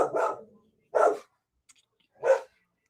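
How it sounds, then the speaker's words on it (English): Husky dogs bark indoors, three separate loud barks spaced about a second apart, with quiet gaps between them. "The dogs will stop in a second."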